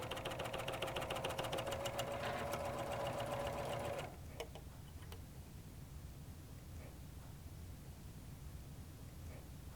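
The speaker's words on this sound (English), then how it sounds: "Cover stitch close to the fold." A serger sews a cover stitch close to a fabric fold, whirring in a fast, steady, close buzz for about four seconds before stopping, leaving faint background hiss.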